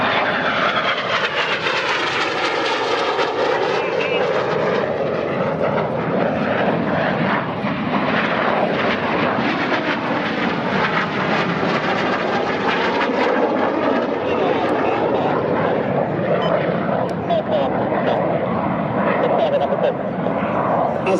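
RAF Red Arrows jets roar through a flying display at Sywell Airshow, a continuous loud rushing engine drone rising and falling as the aircraft pass, with a commentator talking over it throughout.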